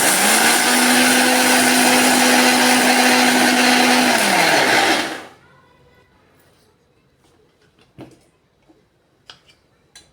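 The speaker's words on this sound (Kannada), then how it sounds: "ಇದನ್ನು ಸ್ವಲ್ಪ ತರಿ ತರಿಯಾಗಿ ಗ್ರ್ಯಾಂಡ್ ಮಾಡ್ಕೊಳ್ಳೋಣ" Electric mixer grinder coarsely grinding a dry pickle masala for onion pickle: a loud, steady whirring whine for about five seconds, then the motor winds down and stops, leaving quiet with a few soft clinks and taps.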